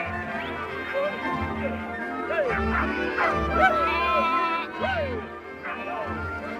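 Sheepdogs on a New Zealand sheep station bark and yip repeatedly at close range, with excited rising whines between barks, over a steady humming background.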